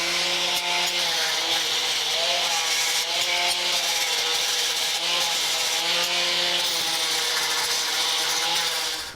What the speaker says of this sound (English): I'm going to clean these up with some 60 grit sanding discs on the angle grinder